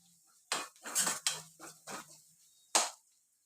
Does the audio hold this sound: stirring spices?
yes